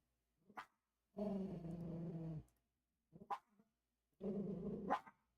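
Mimi the dog woofs indoors in two short bursts, each a sharp yip followed by a sustained low growling grumble, close and quiet with pauses between.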